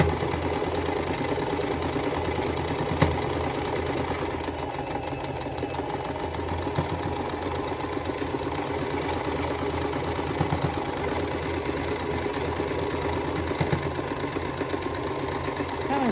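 A home sewing machine runs steadily through a quilt block, its motor hum and rapid needle clatter continuous and close, with a dry, rough knocking that suggests it needs oil.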